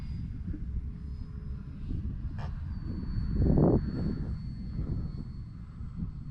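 A radio-controlled Dynam Skytrainer 182 model airplane flies overhead, its faint electric motor drone audible over steady outdoor wind rumble, swelling briefly as it passes nearer.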